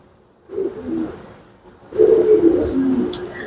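Silver pigeons in a loft give low, rolling coos in two bursts, close and clear, with faint chirps behind.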